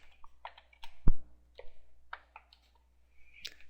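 Keys clatter on a computer keyboard as a search is typed, scattered close taps and clicks with irregular pauses and one louder thump.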